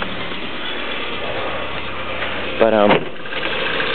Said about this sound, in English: I'm getting this noise from the engine